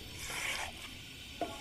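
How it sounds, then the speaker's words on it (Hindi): Chopped cauliflower and chicken roast in a hot pan for a dhaba-style gobi chicken, giving a steady soft sizzle and stirring scrape with one brief utensil knock near the end. "अब हम 2 मिनट भून लेते हैं"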